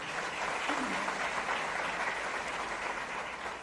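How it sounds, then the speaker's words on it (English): An audience applauds Sadhguru at a live onstage talk, a sustained, even roar of many hands clapping, somewhat distant and steady from start to finish. "Let's give the Sadhguru a round of applause, ladies and gentlemen"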